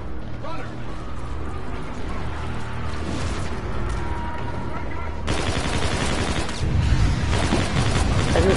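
Gunfire in the Call of Duty: Infinite Warfare campaign, with bursts of shots and mechanical clatter building louder toward the end, mixed with game sound and speech.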